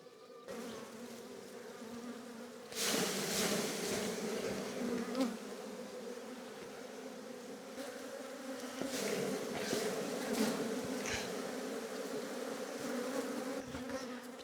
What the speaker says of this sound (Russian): Пчела явно недовольна, что я к ней залезла.